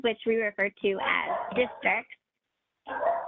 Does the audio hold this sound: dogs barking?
yes